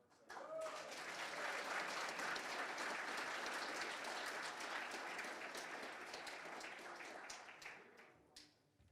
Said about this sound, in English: A round of applause, especially for nobody going over.